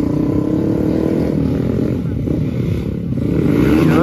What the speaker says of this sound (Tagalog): Ayan na naman yung maingay na ng motor.